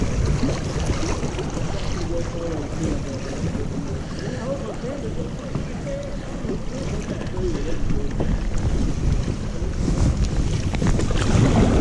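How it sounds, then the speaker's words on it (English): Rapids on the Flint River make a steady, broadband rush of churning water close by, with heavy wind buffeting the microphone and faint voices now and then. "Dude, that's the rapids there."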